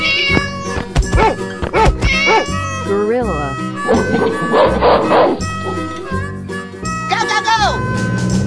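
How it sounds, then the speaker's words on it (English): A cartoon cat meows several times in high, sliding, expressive calls set against a busy, playful animated-animal soundtrack, with other cartoon animal voices mixed in nearby. "Cat."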